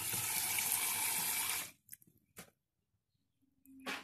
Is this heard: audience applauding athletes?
no